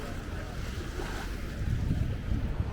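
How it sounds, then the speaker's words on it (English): Ocean waves slosh around a small boat bouncing beside a San Diego oceanfront wharf, a continuous rumbling wash mixed with gusty wind buffeting the microphone. "Look at this boat's having a heck of a time in these waves. It's bouncing up and down."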